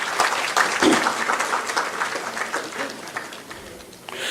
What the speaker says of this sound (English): a huge round of applause for our guests